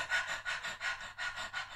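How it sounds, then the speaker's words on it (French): A person does quick, shallow chest panting like a small dog as a vocal warm-up exercise. About six rhythmic breathy pants come close and soft, steady and evenly spaced. "soit on fait une respiration de petit chien comme ça"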